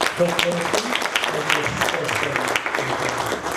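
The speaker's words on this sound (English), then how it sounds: "So can we clap hands for" An audience at an inaugural university lecture claps, scattered, moderately loud applause running under continuing talk from the speaker throughout.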